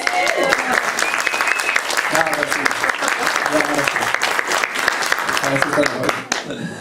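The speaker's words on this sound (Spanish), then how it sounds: "Dale un aplauso al Señor." A church congregation claps for God during a Spanish-language worship service, loud and sustained group applause with cheering voices mixed in, fading out near the end.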